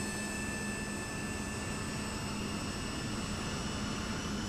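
The right jet engine of a T-38 starts up in Microsoft Flight Simulator 2024 with a steady, loud turbine roar and high whining tones that hold constant throughout, with no talk over it.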